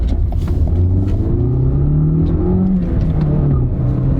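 A manual-transmission Toyota compact car pulls away hard, engine rising steadily in pitch as it revs through the gear, a loud continuous drone with rumble; any tire chirp is not distinct.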